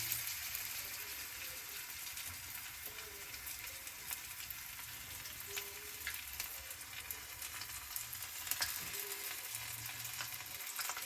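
Bangda mackerel fries in hot oil, street style, giving a continuous crackling sizzle with small pops, steady and moderately quiet throughout.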